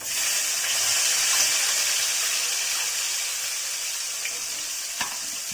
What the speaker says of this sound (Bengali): আরো বাকি যে মাছটা আছে সেই মাছটাও ভেজে নেব